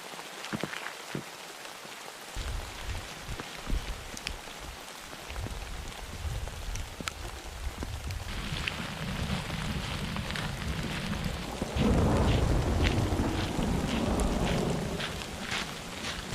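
Rain patters steadily on a surface at a campsite, growing heavier and louder toward the end, with scattered drips and a faint breeze.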